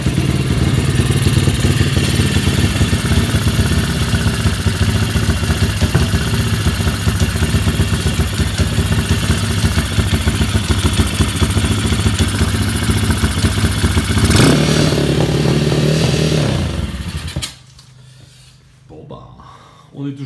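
A dirt bike engine with a carburetor fault runs continuously nearby with a rough, clattering idle for most of the time, then cuts out abruptly, leaving a quieter stretch. Small pops are not clearly separable from the running engine.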